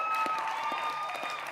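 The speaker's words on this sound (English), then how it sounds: "Can we just have one more round of applause for these guys?" Audience applause for performers at a talent competition, a steady wash of clapping with a few whoops and tonal voices mixed in.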